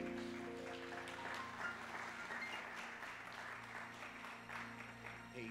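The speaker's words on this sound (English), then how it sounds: "Let's give God a hand clap of praise." A church congregation claps their hands in praise during a sermon, a sustained patter of many hands that stays steady for several seconds, with faint voices mixed in.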